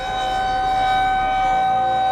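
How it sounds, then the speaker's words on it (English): A loud, sustained tornado siren wail drones steadily at close range in North Dakota, a constant mechanical tone with no voices. "I'm right next to a tornado siren as I'm filming this."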